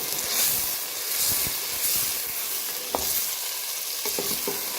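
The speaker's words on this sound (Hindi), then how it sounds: "अब हम इस गोश्त को अच्छे से भून लेंगे इस सारे मसाले में" About a kilogram of meat frying in spice masala with green garlic and onions, a steady close sizzle and hiss with occasional scraping stir strokes and small clinks of the spoon against the pot.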